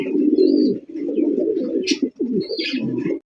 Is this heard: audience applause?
no